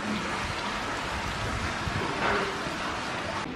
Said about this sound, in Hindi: तभी देखा कि बहुत तेज बारिश हो रही थी